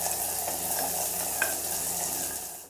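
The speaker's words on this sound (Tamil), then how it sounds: "இப்போ ஒரு வெங்காயம் அரிஞ்சு வச்சேன் பாருங்கள், அது போட்டுடலாங்க. நல்லா வதங்கட்டுங்க" Chopped onion sautéing in a pan of oil alongside frying vadagam, giving a steady close sizzle with a few faint stirring taps and no talking.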